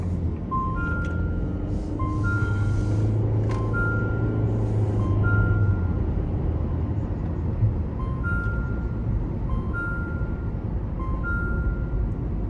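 A Jeep Renegade seatbelt warning chimes in repeated two-tone beep pairs at a steady rhythm, clear over a constant road and engine drone inside the moving car.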